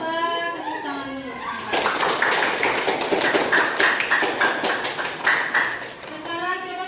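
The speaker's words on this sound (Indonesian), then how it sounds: "kalian coba tepuk tangan dulu" A group of children clap their hands together in a classroom setting, a dense burst of many claps lasting several seconds, with children's voices before and after.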